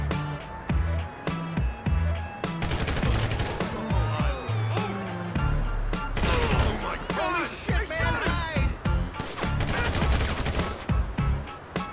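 Gunfire in GTA V Online during a mission with a double headshot, rapid bursts of shots and impacts mixed with loud game music and voices.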